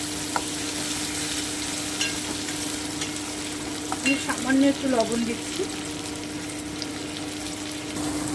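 Tomato with almonds, ginger and green chilli sizzles steadily in a pan, close and continuous, while a voice speaks briefly over it near the middle.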